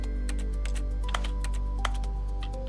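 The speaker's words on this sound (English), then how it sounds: "Funny that it sounds like I'm hitting keyboard when I'm trying to touch everything." Keyboard typing sounds play in the video game The Stanley Parable: Ultra Deluxe as the player interacts with objects, giving a quick, irregular series of clicks over a low steady hum.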